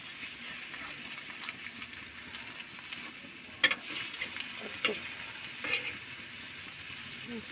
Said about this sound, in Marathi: कांटी फ्राय बनवते मी